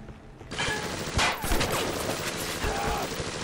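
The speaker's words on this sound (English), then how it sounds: "Being shot at right away?" Gunfire in BioShock: loud rapid bursts of shots and mechanical clanks of weapons, steady and dense over several seconds, with a player talking over the action.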